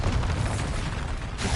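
Booming blasts from Confringo and Bombarda explosion spells in a video game, a dense, continuous rumble of bursts with a fresh surge near the end, loud and close throughout.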